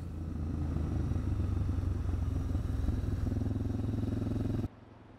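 A Suzuki motorcycle engine drones steadily and close for about five seconds while riding toward the Gorafe desert in Spain, then cuts abruptly to a quieter hum near the end.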